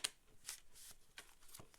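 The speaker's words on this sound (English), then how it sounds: "One more good shuffle." Tarot cards being shuffled by hand: a few quick, soft papery riffles and flutters, faint and close, with no talking.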